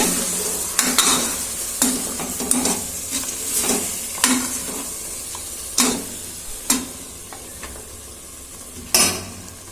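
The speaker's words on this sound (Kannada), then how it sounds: "ಈಗ ಮಟನ್ನ ಮಸಾಲೆ ಜೊತೆ ಚೆನ್ನಾಗಿ ಮಿಕ್ಸ್ ಮಾಡಿ" A spoon scrapes and clanks through mutton and masala in a hot pan, sharp knocks every second or so over a steady sizzle, no voices.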